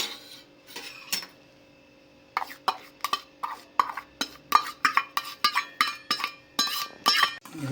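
A spoon stirs pickle masala in a bowl, giving a rapid run of sharp metallic clinks and scrapes after a few scattered taps, close and clear with no talk.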